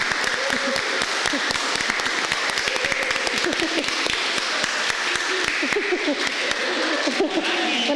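Sustained applause for the newlyweds at a wedding blessing ceremony, many hands clapping steadily with sharp individual claps scattered across it, while voices chatter and murmur underneath.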